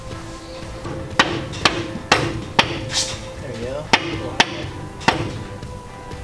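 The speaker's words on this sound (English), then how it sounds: "Here, I'll knock it back into alignment for you." A hammer strikes metal on a Chevrolet El Camino project car's suspension part, about eight sharp, ringing blows at an uneven pace, close and loud, with brief talk heard between the hits.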